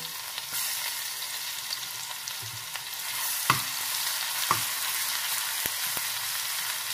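Ginger-garlic paste with turmeric sautéing in a pan for a spicy onion bhujane, a steady close hiss of frying broken by a few sharp stirring scrapes and clicks.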